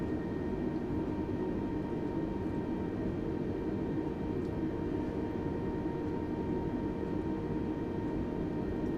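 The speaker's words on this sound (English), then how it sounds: "Get a bit of power, and we'll start our taxiing out to runway 25." Airliner engines in Microsoft Flight Simulator 2020 during taxi at London Luton Airport: a steady, even jet whine and broadband roar that holds constant throughout with no talk.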